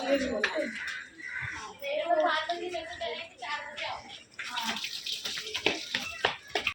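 Water pours and splashes continuously while a surface is scrubbed clean with a wet cloth, close by, as an adult and someone talk over it throughout.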